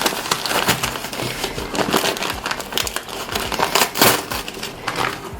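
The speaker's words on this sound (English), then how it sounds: "we could just rip this tearaway off" Tearaway embroidery stabilizer is ripped off fabric on a sewing project, making loud, close crinkling and tearing bursts in a fast, irregular run with no speech.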